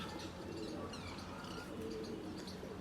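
Pigeons cooing, soft continuous low murmurs from several birds kept together, faint and steady with a few light chirps over a hushed background.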